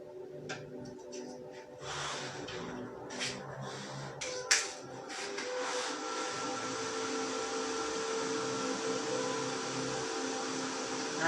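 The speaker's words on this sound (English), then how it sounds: "I'm just going to turn my aircon on because I'm boiling" An air conditioner switches on with a few clicks and snaps, then settles into a steady, soft whirring hum that runs on alone.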